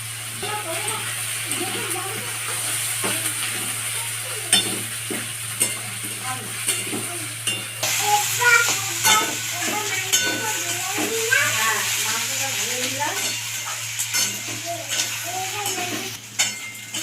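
Prawns and kochurloti fry in a pan with steady sizzling while a utensil scrapes and stirs in repeated strokes, close and fairly loud, with a voice talking over part of it.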